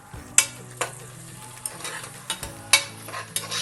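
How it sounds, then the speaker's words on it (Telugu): Onions fry in oil with turmeric and salt for a vegetable gravy curry, a spoon stirring them with several sharp scraping clicks against the pan over a soft, steady sizzle, close up and without talk. "ఇప్పుడు కలుపుకుందాము."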